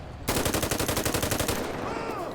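Full-auto weapon fire in a video game, a loud rapid burst of evenly spaced shots lasting over a second, then cutting off into a fading ringing tail with no talking.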